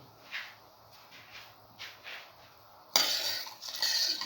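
A spoon stirs sugar into a cinnamon vermicelli mixture in a pot, with a few scraping strokes and then a louder burst of rapid clinking against the metal, close and with no talk.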